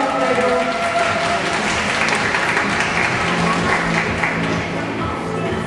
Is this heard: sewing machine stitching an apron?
no